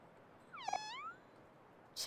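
A single cat meow in the video game OMORI, one clear rising-and-falling mew under soft background music, followed by a short bright chime.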